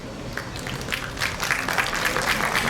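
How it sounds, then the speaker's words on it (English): An audience applauds steadily throughout a school orientation-day award ceremony for the middle section, the dense clapping holding at a fairly even level and swelling slightly toward the end. "Huge round of applause please for them."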